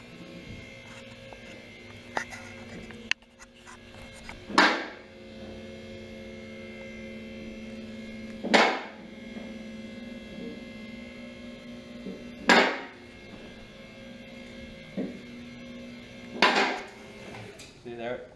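A Triumph C7000 two-post car lift rising in a garage, a steady electric motor hum broken by four loud, evenly spaced clunks of the safety locks catching, with no one talking.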